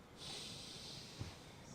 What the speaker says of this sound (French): Tu vas juste prendre une grande respiration